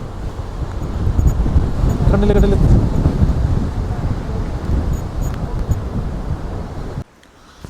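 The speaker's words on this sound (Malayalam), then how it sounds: "ഇതൊന്നൊന്നര കാറ്റാടാ" Strong wind roars across the highest hilltop of the Nilgiri range near Ooty, a loud, steady buffeting rush against the microphone with mist blowing through, under excited talking, before dropping away abruptly at the end.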